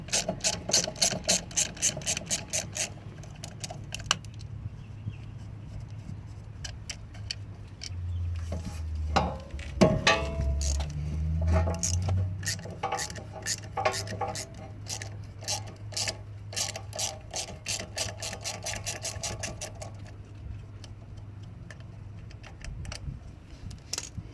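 Ratchet with a T27 Torx bit removing the electric park brake motor from a 2014-on Mazda 6 rear caliper, rapid close clicking pawl runs in bursts alongside a low mechanical hum, no talk.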